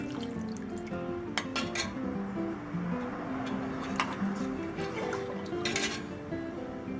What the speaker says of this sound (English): So you just wanna stir it really well.